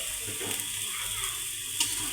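Fish roe frying in a pan with turmeric, salt and coriander powder, sizzling steadily as it is stirred, with a few soft scrapes and a brief clink near the end.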